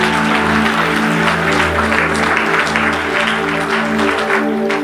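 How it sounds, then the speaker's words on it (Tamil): Dense, loud applause from a church congregation during a sermon, sustained and even for several seconds, with a low hum of background sound beneath the clapping and no talk over it. "இவ்வளவுதான் கைத்தட்டா."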